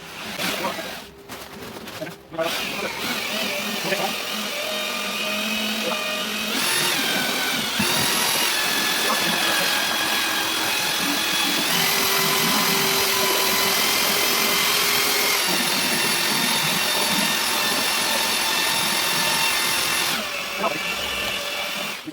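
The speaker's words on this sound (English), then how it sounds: "Stick that fan on. We'll keep the dust away from where we are." An electric fan running in a room during plaster skimming of walls, switching on after a couple of clattering knocks and then holding a loud, steady, close whirring drone throughout.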